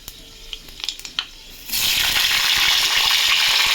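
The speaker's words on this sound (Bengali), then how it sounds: "এই মাছের মাথা দুটো পাঁচফোড়নের উপরে দিয়ে দেবো।" Two fish heads dropped into hot oil over panch phoron, five whole spices: a few light crackles and pops of spices at first, then a sudden loud, steady sizzling hiss of frying that continues close up.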